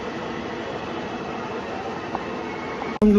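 A metro train near a metro station gives off a steady, low rumbling hum that holds at an even level, then ends in a sudden sharp knock.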